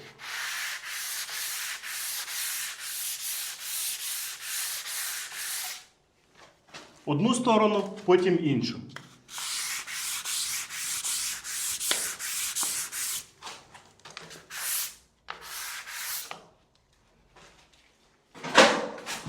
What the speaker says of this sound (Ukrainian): Беремо терку таку півмісяць і починаємо шліфувати з одного боку.